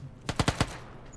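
Four quick, evenly spaced gunshots from a weapon in PUBG, fired single-shot at close range, crisp and loud against a quiet background.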